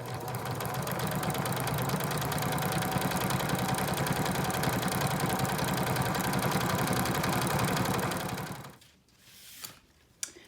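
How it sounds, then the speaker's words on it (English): Sewing machine zigzag stitching lace onto the edge of a ribbon, a steady close mechanical whir running continuously for about eight seconds, then stopping into a few faint clicks and handling sounds. "we're just going to sew along the length of the ribbon"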